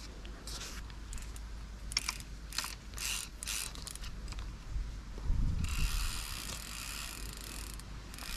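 A Vision HDC fly reel with its drag engaged clicks rapidly as a carp takes line, a steady ratcheting buzz in bursts that swells into a longer continuous run near the end, heard close up outdoors.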